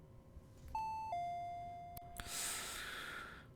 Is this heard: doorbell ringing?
yes